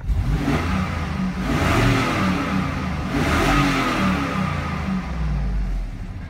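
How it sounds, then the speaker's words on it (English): A 2004 LQ9 6.0-litre LS V8 engine with 160K miles revs up loudly a couple of times, its roar swelling and easing back to a rumbling idle between pushes. "we'll give her a couple revs"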